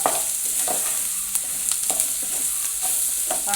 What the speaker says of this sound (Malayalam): ഇനി ഇവരെ എല്ലാവരെയും കൂടി ഇട്ടൊന്ന് ഇളക്കുക.